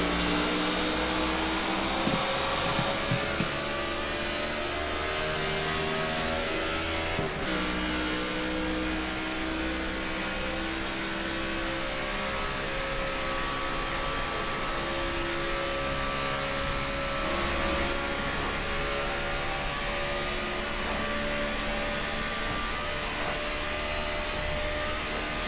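Stock cars racing at Michigan International Speedway in the video game NASCAR '14, a dense continuous engine roar and whine holding steady close up, with a brief bump partway through.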